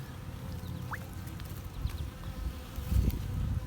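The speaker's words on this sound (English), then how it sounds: "And bees." Bees buzz close by over mud, several insects droning and darting past at varying pitch over a quiet outdoor background.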